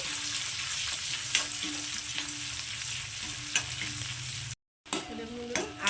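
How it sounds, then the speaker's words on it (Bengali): Chopped ginger and green chilli fry lightly in hot oil, making a dense, close sizzle with a few stirring scrapes. A short silent gap comes near the end, and the frying resumes after it. "এবার দিয়ে দিচ্ছি আদা কুচি আর দিয়ে দেবো লঙ্কা কুচি তো এগুলোকে একটু হালকা ভেজে নেব"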